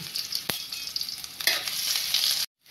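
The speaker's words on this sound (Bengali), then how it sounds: "এবার আমি ভালোভাবে ভেজে নিব" Chopped onion and garlic fry in hot oil with a bright, crackling sizzle close up, punctuated by a few sharp spoon knocks and stirring scrapes, before the sound cuts off abruptly.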